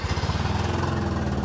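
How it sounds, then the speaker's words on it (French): A car engine started and running during a cranking test on a diagnostic tool, giving a steady, loud, close-up mechanical drone with a fast, regular low pulsing throughout. "On appuie là-dessus, on démarre le moteur."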